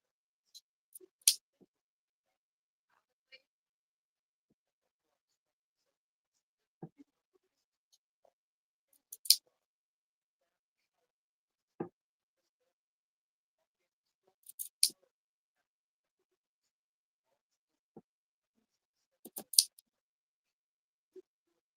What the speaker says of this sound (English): Being mindful not to snip in the stitch.